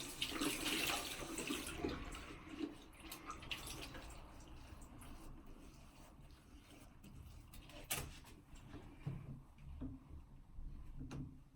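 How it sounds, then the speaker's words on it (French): Water runs from a tap while someone wets their face during a skincare routine, a steady close splashing and trickling that is strongest at first and then quieter, with occasional knocks and drips. "Donc là, je vais donc me mouiller le visage."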